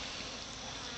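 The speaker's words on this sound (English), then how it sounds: "you can see the bees are captured" Captured bees buzzing inside the inner chamber of a Vac-a-Bee bee vacuum, a dense, even hiss-like drone with no breaks, fairly faint and close.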